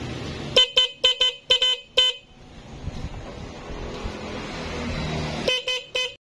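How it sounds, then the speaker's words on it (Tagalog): A vehicle's stock horn gives a rapid burst of about seven short honks, falls quiet while a motor hums, then honks again in a few quick toots. "Subukan natin ng stock horn."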